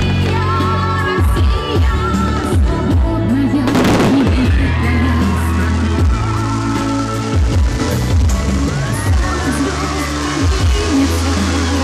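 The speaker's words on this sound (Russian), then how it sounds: "Грандиозный и уникальный праздник завершился масштабным фейерверком." A large fireworks display closes a record-setting Dagestani wedding celebration in Derbent, with repeated loud bangs and booming bursts sounding close and distant, one big crackling burst standing out, over a faint crowd with occasional whoops.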